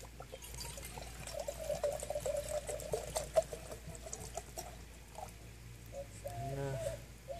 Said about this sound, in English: Let's pour my water.